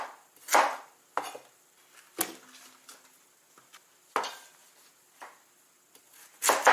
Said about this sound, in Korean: 믹서기에 들어갈 수 있을 크기 정도만 되게끔 이렇게 큼직큼직하게 썰어주시면 됩니다